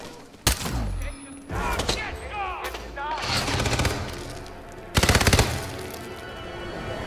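Bursts of automatic gunfire and single shots in the Hitman video game, loud and intermittent amid shouting voices and chaotic background noise.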